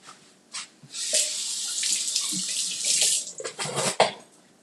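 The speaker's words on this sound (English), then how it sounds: "And then I just rinse it anyway, just to make sure I have all the seeds out." Tap water runs over a deseeded bell pepper in a kitchen sink, a steady splashing stream with brief bursts and shifts as the pepper is turned under the flow, close and alone.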